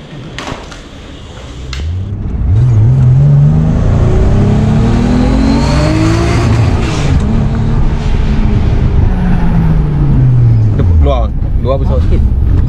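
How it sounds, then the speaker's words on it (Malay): A rear-wheel-drive Nissan GT-R R34 drifts as its engine revs hard, loud and close, pitch sweeping up then down through sustained acceleration, with voices faintly under the engine noise. "Drift, drift, drift."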